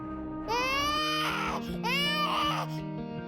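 An infant in the Avatar World video game cries in two loud, wailing bursts with a brief catch of breath between them, over a soft background score.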